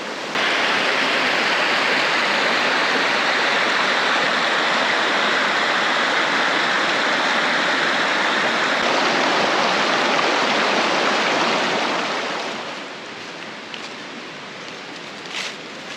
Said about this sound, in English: And this creek is beautiful.